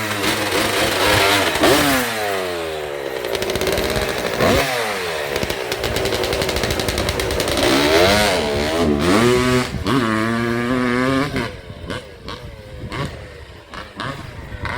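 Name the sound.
Kawasaki KX250 two-stroke dirt bike engine running and revving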